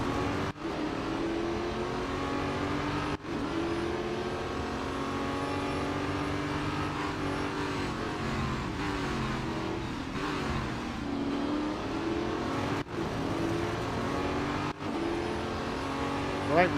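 Race car engines from the Real Racing 3 video game drone and rev steadily throughout, with shifting harmonic pitch from acceleration and braking, loud and continuous with brief cuts and occasional tire squeal.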